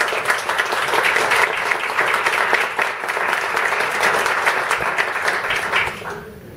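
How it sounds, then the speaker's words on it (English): Audience at a city transit commission meeting breaks into sustained applause, a dense, even wash of clapping that fades out over the final second. "please join me for a round of applause."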